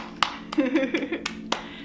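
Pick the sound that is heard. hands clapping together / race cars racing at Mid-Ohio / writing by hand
hands clapping together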